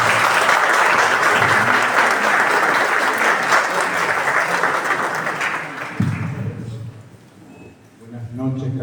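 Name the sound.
applause for the professor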